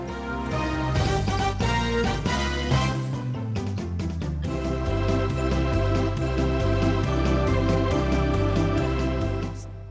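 An electronic keyboard plays a song exactly as written, a full arrangement with a steady bass line and chords in an even rhythm, loud and continuous throughout.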